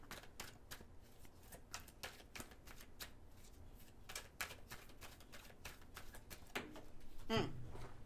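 Tarot cards being shuffled for a reading, with a steady run of quick papery riffles and flutters, close and fairly quiet, ending in a slightly louder burst of card handling.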